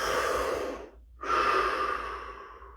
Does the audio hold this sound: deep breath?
yes